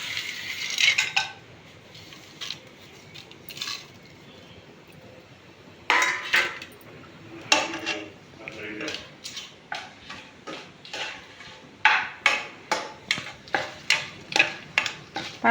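A spoon scrapes and clinks against a pan as pulao whole spices are stirred in hot ghee and oil, in a quiet kitchen: sparse at first, then a quickening run of sharp metallic strokes.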